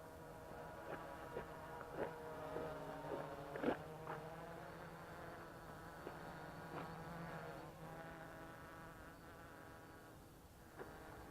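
Homemade quadcopter drone built on an MJX Bugs 3 board, flying with a faint, steady insect-like buzz of motors and propellers, quiet and close, with a few light knocks.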